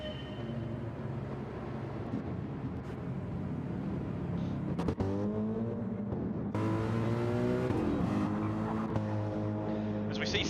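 GT3 race cars pull out of the pits for qualifying in a sim racing championship, their engines droning and rising in pitch through several gear changes, fairly close and sustained.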